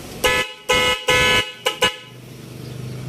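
Stock horn on a TMX 125 motorcycle honks five times, three longer blasts then two short quick toots, loud and close, followed by a low idle rumble.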